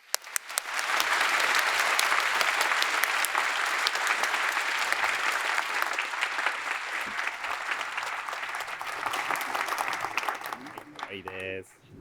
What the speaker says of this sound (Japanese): じゃあ皆さん大きな拍手ください。